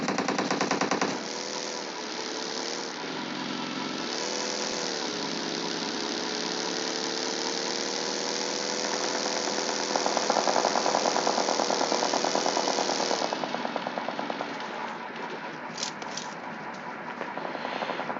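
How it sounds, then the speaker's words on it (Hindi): Gunfire in the mobile game PUBG Mobile sounds as a dense, continuous automatic rattle that runs for the whole stretch, loud and steady, then turns to choppier bursts near the end, with no talking. "ताकि इनके गन का साउंड को परेशान ना करे।"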